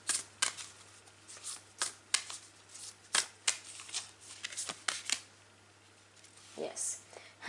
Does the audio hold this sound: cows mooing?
no